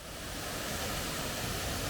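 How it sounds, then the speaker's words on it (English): A small waterfall on the walk up to Stickle Tarn in Great Langdale in the Lake District rushes with a steady, broadband hiss of falling water, constant and fairly quiet, with no voices. "just come across this lovely little waterfall"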